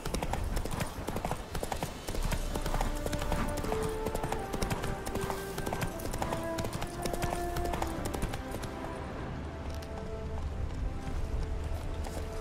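Hooves of the horse Roach trotting in The Witcher 3, a continuous rapid clip-clop rhythm, close and steady throughout, with soft game music underneath.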